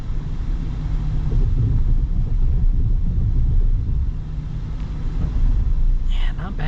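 The turbocharged 4-cylinder engine of a 2024 Chevy Silverado TurboMax full-size pickup pulls under acceleration, heard from the cab as a steady, dense low drone with road rumble and talking over it.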